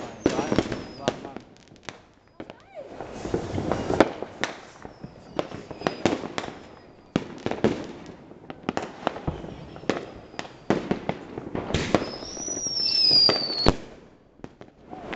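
Village New Year's Eve fireworks in Vietnam, a long run of loud booming bursts and crackling firecracker pops at irregular intervals, one whistling rocket rising near the end, with people talking between blasts.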